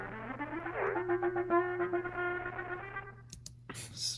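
A crunchy, distorted Ibanez-style live effect in a Pro Tools mix produces a buzzing harmonic tone with a pitch bend and rhythmic pulsing for about three seconds. A few clicks and a brief noisy burst follow.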